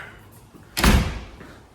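A back door is pulled open with a quick sliding thud and rattle, close by, in a quiet room of a house.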